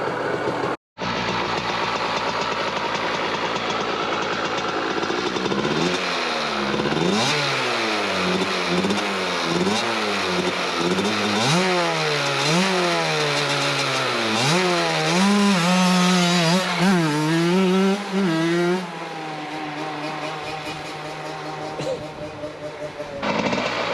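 A CR80 two-stroke engine on a go kart warms up, then revs repeatedly in rising and falling sweeps, loud and buzzy and close, with a brief cut near the start.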